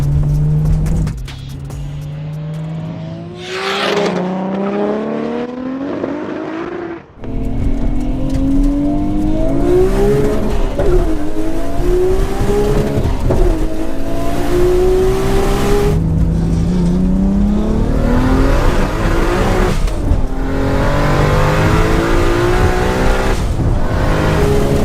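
A 900bhp Toyota Supra and an 800bhp Nissan Skyline R34 GT-R roll together, then accelerate hard in a roll race. Loud engines climb repeatedly through the gears, with a brief drop between shifts, and the roar stays close and sustained for about twenty-five seconds.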